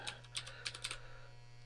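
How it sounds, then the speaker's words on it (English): Brisk keystrokes on a computer keyboard, a handful of crisp clicks in an uneven run, close by over a steady electrical hum, with no talking. "Type it on the manual keyboard."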